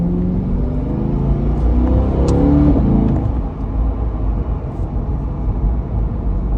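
A modded 2021 Chevrolet C8 Corvette V8 revs loudly up close, with a rising engine note and quick rev-matched blips as it downshifts, while a steady road rumble continues underneath.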